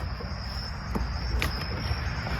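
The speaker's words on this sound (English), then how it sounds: "You can hear the crickets because it's starting to get dark out here." Crickets chirp steadily outdoors as dark falls, a continuous high insect trill over low background rumble, with a few faint clicks and knocks nearby.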